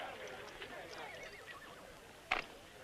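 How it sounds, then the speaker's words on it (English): A horse in a western film gives a short, sharp whinny near the end, standing out against a quiet, muffled background. "There's that horse."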